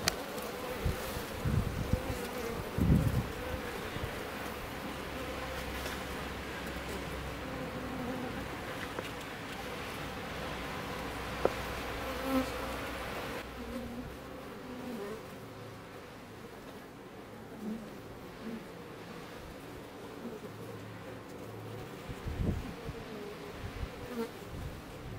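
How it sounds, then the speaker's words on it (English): Honeybees buzz steadily around a hive as a caged new queen is placed on it, a dense, continuous insect hum close by with a few louder passes and occasional handling knocks. "let's see if these bees are ready for a new queen"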